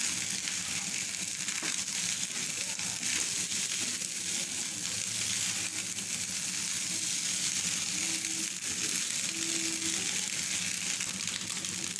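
Mexican fried rice is stirred together with its ingredients in a hot pan, producing a continuous dense sizzle and soft scraping that holds steady and close throughout.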